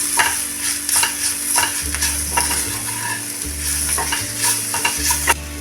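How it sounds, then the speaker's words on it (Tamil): Ivy gourd with turmeric and red chilli powder stirred in a frying pan: steady sizzling with repeated scraping spoon strokes against the pan, close and continuous, no talking. "இப்போ இதை கிளறி விட்டுக்குங்க."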